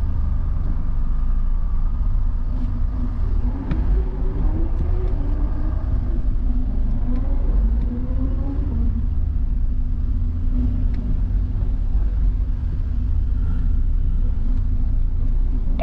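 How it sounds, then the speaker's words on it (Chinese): Cars rolling onto the circuit at an Audi track day, a steady low engine rumble with faint passing drones and a rising whine midway, continuous and moderately loud with no clear talk. "车辆进场，车辆进场。"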